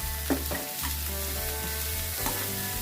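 Carrots, capsicum and spring onions stir-fry in a pan for manchurian, giving a steady low sizzle with a few soft scraping stirs. No one speaks.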